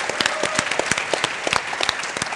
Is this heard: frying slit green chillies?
no